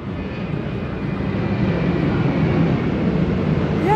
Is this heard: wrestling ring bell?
no